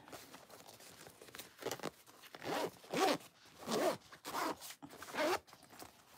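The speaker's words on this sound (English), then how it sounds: "let's zipper her up" A zipper pulled closed on a handmade sewn pouch, several quick zipping strokes in bursts, close and fairly quiet.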